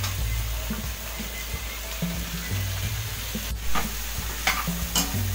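Chopped capsicum, carrot and cabbage sizzle and frying in a pan for masala rice, with steady close crackling and repeated scraping stirs of a spoon throughout.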